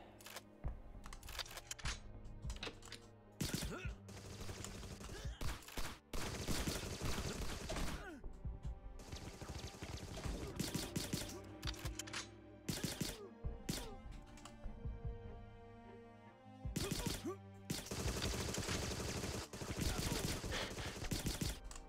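Rapid gunfire from the Goldeneye-inspired FPS video game Agent 64: Spies Never Die, with dense bursts of shots and sharp single cracks that come and go across the stretch, loud and close, with brief quieter gaps between volleys.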